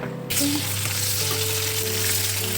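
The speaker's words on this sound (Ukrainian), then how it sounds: "Тепер ми їх обсмажуємо." Soaked and chopped dried mushrooms drop into hot oil and burst into a loud, steady sizzle that holds to the end. A faint clank is heard at the start.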